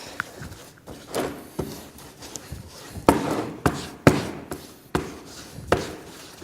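Lead cames on a stained glass window pressed down and tapped over putty during basilica restoration work, giving a series of sharp, close knocks and taps at an irregular pace with no talking.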